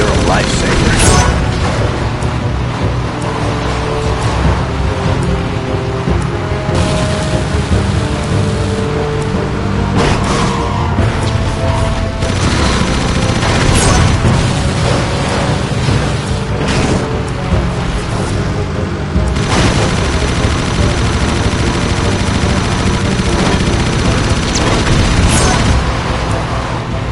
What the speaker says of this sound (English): The storm's getting much worse!